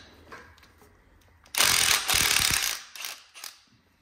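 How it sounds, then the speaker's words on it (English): A brake caliper comes off a Dana 44 axle in a truck swap, with a loud burst of metallic mechanical clatter and rattling, like a power tool or ratchet, lasting about two seconds after a quiet lead-in, then fading in a few shorter clicks. "let's start pulling this caliper off"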